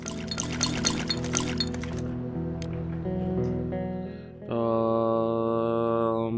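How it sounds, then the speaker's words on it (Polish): Water is poured in the video game This War of Mine, first with rapid clinking and splashing, then a steady trickling pour with ringing, glassy tones. The sound is moderately loud and continuous, with no voices. "Wrzucił wodę."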